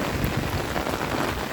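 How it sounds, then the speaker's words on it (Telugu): Heavy rain falls steadily, a dense, even hiss of drops close by with no break and no talk. "మా దగ్గర అయితే ఫుల్ రెయిన్ పడుతుంది"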